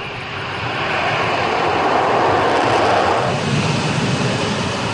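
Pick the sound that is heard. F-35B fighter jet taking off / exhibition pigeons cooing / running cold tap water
F-35B fighter jet taking off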